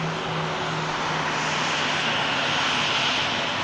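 A Ryanair jet airliner taxis at Manchester Airport, a steady broad engine roar and whine holding constant for a few seconds at moderate distance, with no voices.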